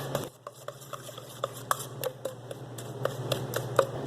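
Zucchini cake batter with brown sugar and eggs being mixed in a bowl, a steady run of soft scraping, stirring strokes with small taps against the bowl, close and fairly quiet, no talking.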